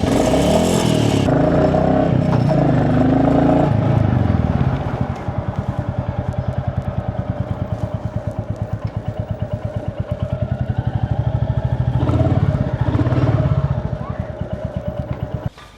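Motorcycle engine running with a steady, deep thumping idle that rises briefly into revs, loud and close, with faint background clatter.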